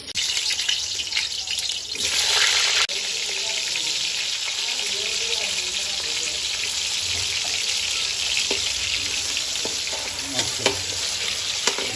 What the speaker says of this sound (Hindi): इसको हमने फ्राई कर लेते हैं आलूओं को